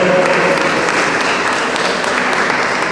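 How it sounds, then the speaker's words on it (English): Applause at an annual general meeting of a cooperative society, a steady, fairly loud wash of clapping from the assembled crowd that holds constant for the whole moment. "A round of applause for them."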